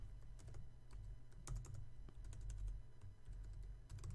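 Quick, uneven clicks of typing on a computer keyboard, close and soft, with no voices.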